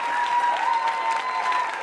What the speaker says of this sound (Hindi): तालियां जोरों से बजाइए उन सभी के लिए आप